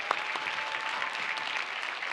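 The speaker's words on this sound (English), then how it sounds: "Let's give them a round of applause." An audience at a conference closing ceremony claps for volunteers and supporters, steady dense applause filling the hall without a break.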